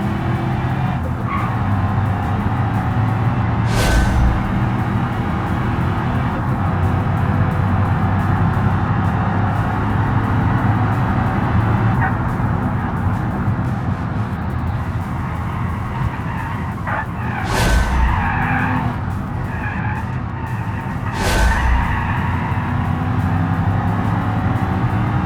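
A car driven in the BeamNG driving game keeps up a loud, continuous engine drone with tire noise and occasional sharp bursts, with no talk.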